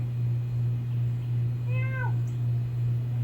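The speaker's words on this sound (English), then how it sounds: "Meow." A cat gives a single short meow over a steady low electrical hum, with no talking.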